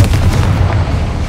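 Confringo blasting spell going off in the video game Hogwarts Legacy, a loud continuous rumbling boom with crackling bursts that fills the whole moment without letup.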